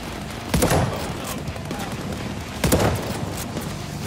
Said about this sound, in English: He has a fucking minigun.